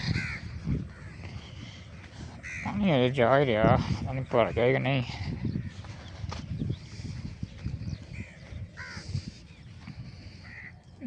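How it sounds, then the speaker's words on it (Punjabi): Crows caw in short repeated bursts, close and prominent, with herons also present at a flooded field, while people talk nearby. "ਤੇ ਕਾਂ ਤੇ ਬਗਲੇ ਆ ਗਏ ਜੇ ਭਾਈ।"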